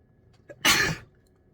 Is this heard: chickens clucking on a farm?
no